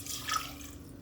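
Water being poured into a saucepan makes a brief, soft trickle and drip lasting about a second, fairly quiet and close.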